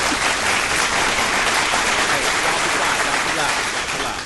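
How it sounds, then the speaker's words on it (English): Loud, sustained applause from a studio crowd, a dense wash of hand claps held steadily for several seconds and tailing off slightly at the end. "we want to just give her another hand claps"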